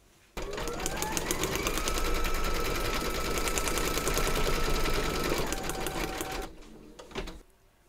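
A large vintage sewing machine stitches an embroidery round in silver thread, running loud, fast and steady for several seconds before stopping abruptly, followed by a brief clunk.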